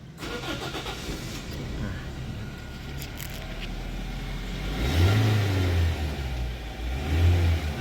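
A used Toyota car engine cranks and catches, then settles into an idle before two loud revs from the accelerator, recorded close by with no talking.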